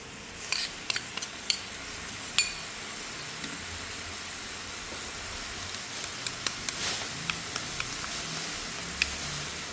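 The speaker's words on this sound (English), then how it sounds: "The coconut cream, they become the creamy. We add the curry paste." Green curry paste frying in coconut cream makes a bright, crackly sizzle, and a utensil scrapes and taps the pan in short irregular bursts close by, with no talk.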